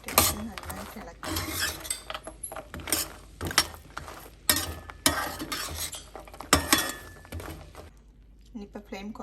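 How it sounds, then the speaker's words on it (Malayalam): A utensil scrapes and stirs fried plantain chips through sticky jaggery syrup in a pan, producing repeated rough scraping and rattling strokes at close range, steady and busy throughout. "നന്നായിട്ട് ഇളക്കി"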